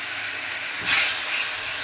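Chili-powder spice paste sizzling and hissing steadily in hot oil during frying, close and loud with a brief swell partway through, no voices.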